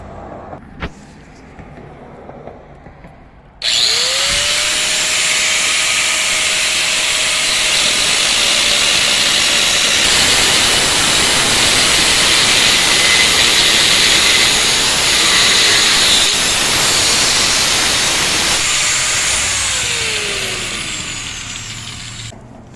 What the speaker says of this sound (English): So we'll get the grinder out